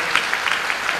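A church congregation claps hard and loudly together, a short, dense, continuous burst of applause with no talking over it.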